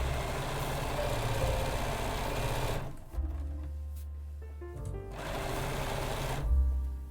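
A home sewing machine runs steadily as it stitches rayon lining fabric for a garment, a close mechanical whir that stops for about two seconds, starts again, then halts.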